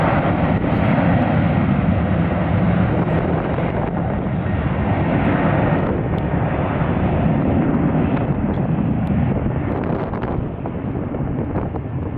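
Airliner in Colorado livery at Atlanta airport, a loud, continuous roar of jet engines with heavy wind buffeting on the microphone, holding steady and easing slightly near the end.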